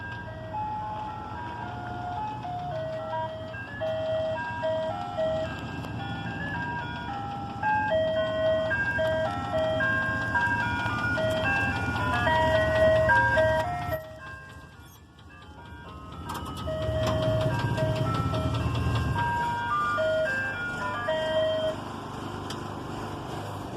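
A green ice cream truck on a sunny evening plays its looping chime tune, growing louder as it approaches, with a brief dip midway before the melody and engine rumble return close by.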